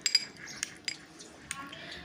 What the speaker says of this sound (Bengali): টক দইটাকে ভালো করে ফেটিয়ে নেব।